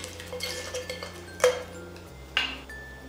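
New pots and pans are handled while their labels are peeled off, giving a few sharp metallic clinks and knocks over a low hum, with no voices.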